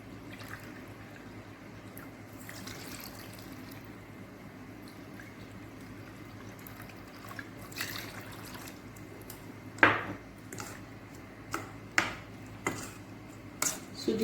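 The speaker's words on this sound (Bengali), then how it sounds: "দু বাটি জল দিচ্ছি।" Water poured from a bowl into semolina, a low running trickle that ends in several sharp splashes and drips toward the end, no talking.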